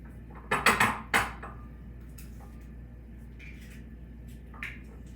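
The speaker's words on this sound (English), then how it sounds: "I like to crack my eggs into a separate bowl just in case there's a bad egg or I get a shell into the mixture." Eggs cracked into a separate bowl while making soft sugar cookie dough: a few sharp clinks and taps of shell against the bowl in a quick cluster, then quiet, with one faint tap near the end.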